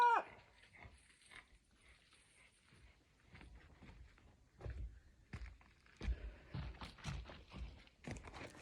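A dog tangled in its lead, outdoors, with faint shuffling and thumps at first, then louder scrabbling, footsteps and rustling as it is freed, close by and irregular.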